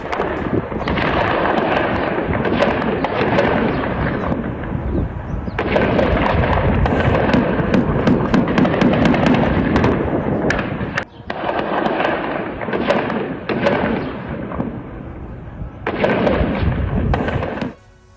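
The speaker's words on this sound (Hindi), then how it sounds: "हमास के समर्थक और इसराइली सेना के बीच में फायरिंग हुई है, ये आप तस्वीरें देखिए और आवाज सुनिए आप।" Gunfire rings out in an exchange between Hamas supporters and the Israeli army: dense, loud crackling reports pour out in several long, sustained volleys separated by short gaps, with no voices.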